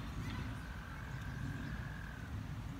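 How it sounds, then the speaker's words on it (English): A bullfrog calls from the water near a fishing spot, one drawn-out croak well in the distance and faint, over a steady hiss of outdoor background noise. "you hear that bullfrog somewhere in there."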